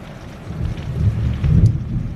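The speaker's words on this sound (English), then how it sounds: "that was a really big flash of lightning, and it's actually pouring." Low rumbling thunder rolls through a thunderstorm with heavy pouring rain, the rumble swelling twice over a steady wash of rain, heard from indoors with no talk.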